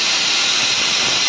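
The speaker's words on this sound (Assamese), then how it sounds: "এফালে দালি হুইচেল মাৰিব হৈছে যায় লাহেকৈ" A pressure cooker cooking dal lets out its whistle, a loud, continuous high-pitched rush of escaping steam right up close.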